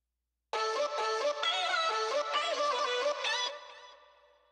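A short, uncut sung vocal chop sample for a track plays as syllables stepping between pitches for about three seconds, then trails off and fades out.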